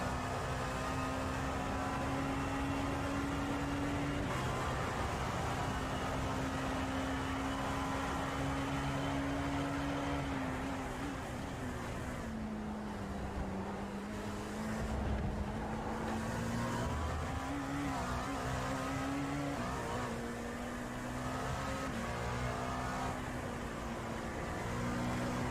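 Onboard engine of an LMP2 or GTE race car at Road Atlanta in iRacing, a steady droning engine tone held at high revs throughout, dipping briefly through a corner and climbing again, loud and close.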